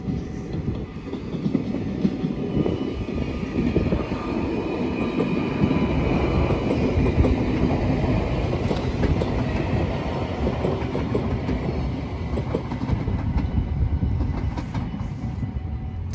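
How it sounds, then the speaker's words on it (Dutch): A train pulls into Schagen station in the Netherlands, a steady rumble with clickety-clack of wheels and faint squeal building and holding, fairly close, with no talk. "de trein komt er al aan. Ik hoor hem zelf al."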